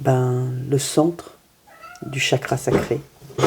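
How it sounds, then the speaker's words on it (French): A domestic cat named Pelote meows loudly and close by, a drawn-out tonal cry followed by a second shorter meow, as someone talks in French. "C'est mon chat qui ouvre la porte."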